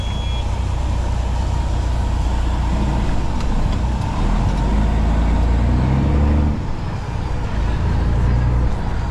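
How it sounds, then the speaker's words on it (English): A farm truck drives along the road, its engine a steady, loud rumble heard from inside the cab, with a brief shift in tone partway through as the motor changes pitch. "Driving my truck."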